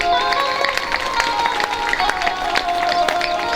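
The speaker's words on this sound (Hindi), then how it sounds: "एक बार हमारे महाराज जी के लिए जोरदार तालियों में स्वागत करेंगे" An audience at a Bhagavat Katha religious gathering breaks into sustained loud applause to welcome the maharaj, dense clapping with some cheering and a few voices mixed in throughout.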